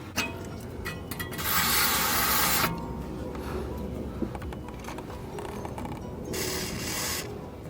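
Two bursts of rubber protectant aerosol spray hiss out onto tyre rubber parts, the first about a second long and the second shorter, with faint rubbing and handling sounds in between.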